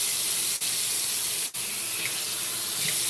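Cold tap water pours steadily into a sink over a washcloth, a continuous close hiss and splash broken by two brief dips in the flow.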